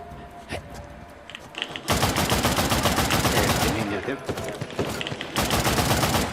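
Bursts of rapid automatic gunfire and shots crackle in the video game Uncharted, starting after a quiet stretch and continuing loud and dense with brief pauses.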